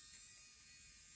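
Electric nail file running at 3000 RPM gives a steady, thin high-pitched whine, faint and unbroken through the short stretch, with no voices.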